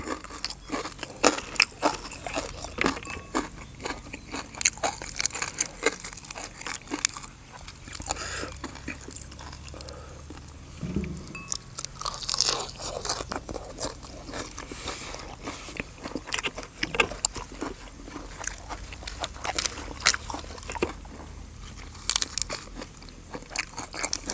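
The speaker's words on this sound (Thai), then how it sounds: "อืมกรอบดี เอาแคบหมูมาแกม" Crisp crunching and biting on pork rinds eaten alongside soft raw salmon, a steady run of close, sharp chewing crackles repeated throughout, with faint background noise and no talk.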